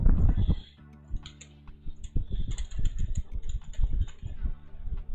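Keys clatter on a computer keyboard while someone builds interface mockups with CSS, bursts of close, uneven typing running through much of the stretch, with a brief pause near the start and faint background hum.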